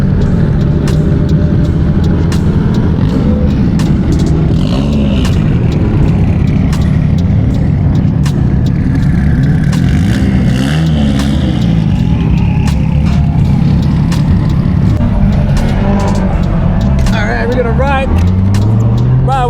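A car drives along a touge mountain pass road in Japan, engine droning loudly and steadily with rises in revs, and people talking over it throughout.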